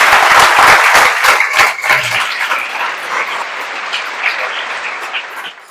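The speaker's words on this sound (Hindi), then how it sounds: "खड़ा होकर इनके सम्मान में कम से कम ताली बजा दी जाए" A standing audience claps in honour of a student who qualified for IISc, a dense burst of applause that gradually thins and softens over several seconds, with no talking.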